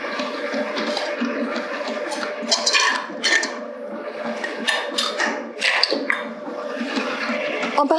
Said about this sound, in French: je vais pétrir en petite vitesse pour commencer